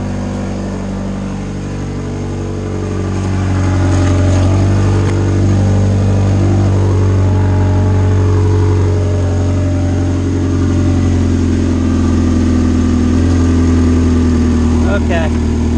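A truck engine runs after exhaust repair work, holding a steady low idle that rises slightly in loudness, with a faint exhaust spit; someone talks over it near the end.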